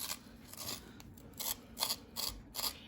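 A pencil being sharpened, heard as a series of short, close rasping grinds, about six bursts in quick succession with brief pauses between, faint and alone.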